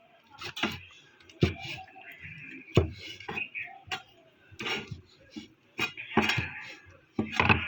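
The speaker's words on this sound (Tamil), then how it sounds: "இப்போ பொடுசாக வெட்டிக்கிடலாம்." Knife chopping cleaned needle squid into small pieces on a board, a run of sharp, close taps and clicks at uneven intervals with short pauses, alone and fairly quiet.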